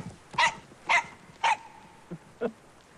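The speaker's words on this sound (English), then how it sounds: "What a dog." A dog barks three times, sharp and evenly spaced, then gives two shorter, quieter gruff yips, close and loud with no talking.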